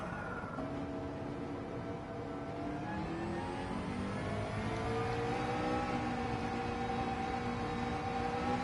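A twin turbo race car engine in a racing video game, on the Interlagos circuit, holds a steady, moderately loud drone. Its pitch climbs gradually as the car accelerates, with a layered whining tone and no talking.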